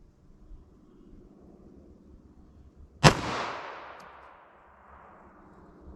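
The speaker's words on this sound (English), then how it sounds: "let's see how close I get to 1200 feet per second with our 9mm here" A single sharp 9mm NATO full metal jacket pistol shot cracks out loudly, followed by a long reverberating tail fading over the next few seconds.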